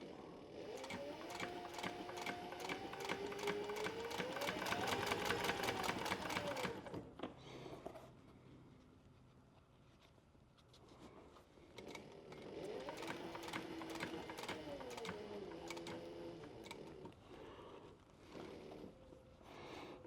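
A sewing machine stitches the front and back of a fringe purse together in two long runs, its rapid needle chatter rising and slowing, with a quieter pause between bursts and no talking.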